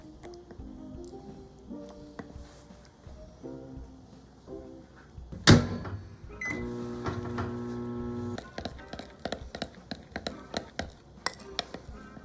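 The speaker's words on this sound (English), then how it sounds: "We're going to put in the microwave for 30 seconds." A microwave oven hums steadily at close range while heating oat milk, with a low mains drone, a loud clunk partway through, and then a series of sharp beeps and clicks as it finishes.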